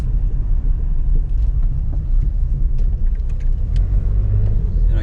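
A 1983 Ford Falcon XE drives along, its steady low engine and road rumble filling the cabin continuously, with light rattles and no talk.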